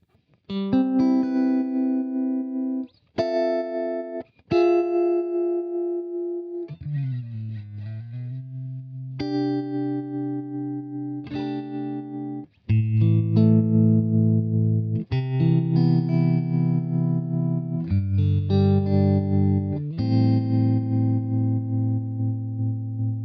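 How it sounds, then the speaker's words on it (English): Guitar played through an opto-style tremolo on a Line 6 M9 effects pedal, sustained chords and notes pulsing in steady volume swells, loud and close with no talking. "we have a nice opto-style tremolo"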